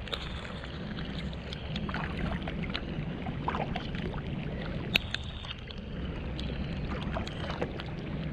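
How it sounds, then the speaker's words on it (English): A kayak is paddled through rain, with a constant wash of water and rain noise and soft, irregular paddle splashes and drips close by, plus a few sharper knocks. "Okay, I'm gonna paddle then."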